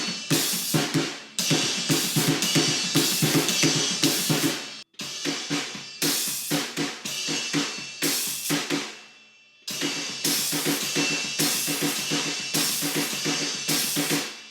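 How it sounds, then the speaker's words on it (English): Full drum kit plays a song's fill on snare, hi-hat and kick, with dense crisp cymbal wash over punchy low hits. It comes in three loud bursts separated by short gaps and is close and bright, with no talking. "So the whole fill sounds like this."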